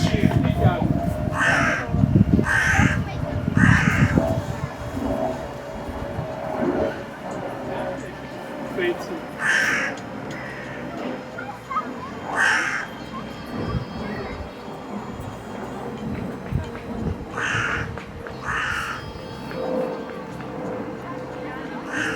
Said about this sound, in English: corvids, magpies and crows in particular, will exhibit all sorts of unusual behaviours